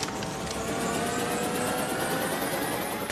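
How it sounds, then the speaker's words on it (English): A helicopter in the video game Resident Evil 5 whirs with steady rotor chop and a turbine whine, loud and continuous for the whole stretch with no talking. "What are the people with no weapons doing running at the helicopter once it's already a few feet off the ground?"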